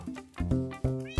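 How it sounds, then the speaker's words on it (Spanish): Cats in a Minecraft village meow several times in quick succession, close and clear, with short gaps between calls. "Tenemos gatos."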